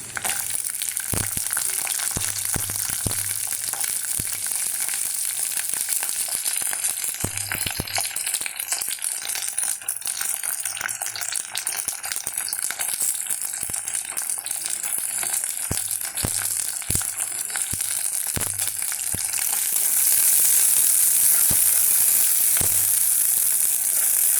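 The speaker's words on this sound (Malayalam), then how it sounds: "കടുക് പൊട്ടി തുടങ്ങുമ്പോൾ നമുക്കിതിൽ തേങ്ങാക്കൊത്തിട്ട് കൊടുക്കാം തേങ്ങാക്കൊത്ത് ചെറിയ ഉള്ളി ഇട്ട് കൊടുക്കും" Mustard seeds, coconut pieces and small shallots frying in hot oil for a jackfruit seed thoran, a steady dense sizzle with sharp crackles and pops throughout, growing brighter and louder near the end.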